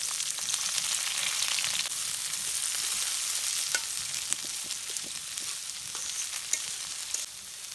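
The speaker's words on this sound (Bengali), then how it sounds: "মরিচ পেঁয়াজ ছাইড়ে দিচ্ছি।" Chillies and onions frying in hot oil for a village fish curry, giving a loud, steady sizzle with small crackles throughout and no talking.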